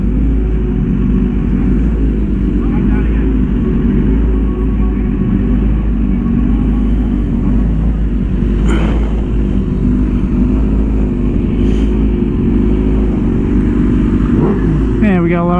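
A Yamaha R1M, a Kawasaki Ninja H2 and a BMW S1000RR with full exhausts cruise together, a loud continuous low engine rumble close by, with faint passing whines over it.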